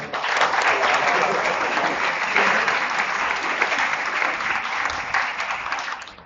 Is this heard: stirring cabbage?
no